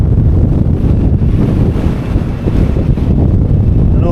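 Strong wind roars steadily across a hillside windmill farm on a walk, buffeting the microphone with loud, continuous low rumble and gusty surges throughout, with no voices.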